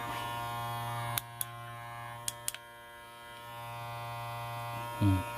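A Kemei KM 2296 cordless hair clipper buzzes steadily at close range, a constant motor hum with a few sharp clicks and a brief louder burst near the end.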